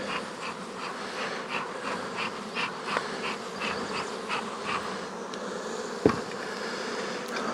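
Honey bees buzz steadily in an open hive box filling with bees, a dense, continuous drone close by with one brief knock partway through and no talking.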